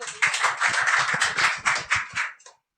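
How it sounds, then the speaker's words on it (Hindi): A classroom of students applauds a classmate, a dense burst of many hands clapping close by for about two seconds before stopping abruptly. "एक बार हर्षित के लिए ताली भाई"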